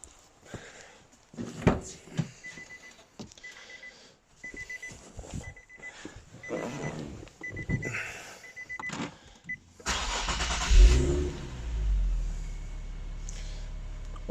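A Nissan 370Z with an automatic gearbox, after a transmission fluid change, chimes with repeated dashboard warning beeps amid clicks, then its engine starts with a low rumble and settles into a steady, close idle.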